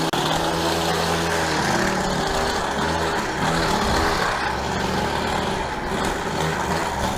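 A small two-stroke engine runs steadily in a garden, a loud, close buzzing drone with slight rises and dips in pitch throughout.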